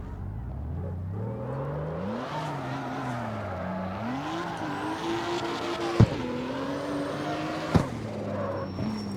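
A Porsche prototype engine in the racing video game CarX Street revs up and down in rising, falling sweeps, climbing to a high-pitched wail, with two brief sharp clicks partway through.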